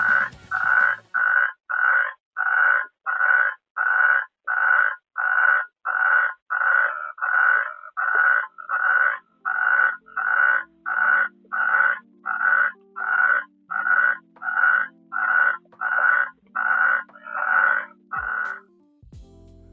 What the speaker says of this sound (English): The Natterjack toad is known as one of Europe's loudest amphibians